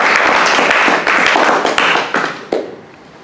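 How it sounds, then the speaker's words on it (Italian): A lecture audience gives a dense, close round of applause after a talk, steady broadband clapping that thins out and fades to quiet over the final second. "Beh, un applauso a tutti."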